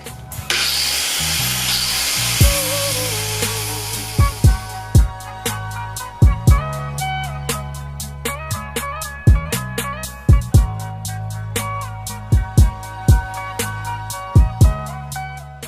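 An angle grinder works on car body metal for a patch repair on a Lexus IS300, a loud harsh whine at first, then settling into a steady drone broken by repeated sharp knocks and clicks.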